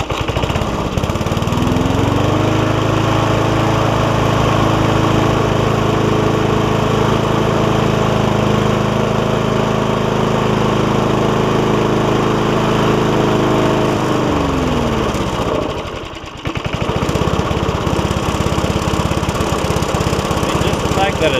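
An old top-pull Briggs & Stratton engine on a free Craftsman push mower runs loud and close with a steady buzzing drone. The pitch steps up for a stretch, then drops back to a smooth idle.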